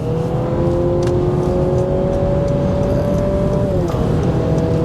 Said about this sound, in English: And you hear the engine.